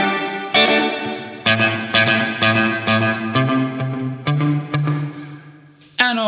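Electric guitar played through a Mad Professor Kosmos reverb pedal with its slapback delay set midway, a series of loud, close chords and picked notes ringing into short echoes and a reverberant tail, with no talking.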